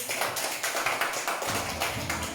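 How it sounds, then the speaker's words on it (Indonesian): Classroom audience applauds for a presenting group, a short burst of fairly close, rhythmic clapping with distinct repeated slaps over a couple of seconds. "Kasih tepuk tangan buat kelompok 1"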